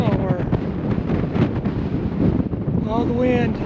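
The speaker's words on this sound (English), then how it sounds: "Still pretty windy." Strong wind on a mountain trail in Guadalupe Mountains National Park buffets the microphone in a constant roar, with someone speaking briefly through the gusts.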